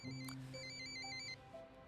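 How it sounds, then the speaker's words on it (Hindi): A phone ringtone plays a melodic electronic tune of sustained tones for about two seconds, fairly faint with no voices over it. "प्राइस का फोन है, मैं भी आया।"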